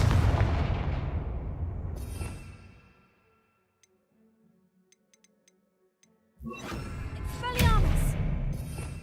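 Confringo blasting spell explosions in Hogwarts Legacy, a loud burst decaying over two seconds, then quiet ticking, then a sudden return of blasts and crackling impacts.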